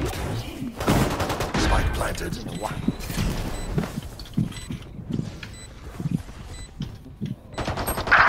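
Rapid gunfire bursts in the Valorant shooter game, repeated sharp shots and short volleys crackling across the whole stretch, loud and close, with excited voices talking over the shooting.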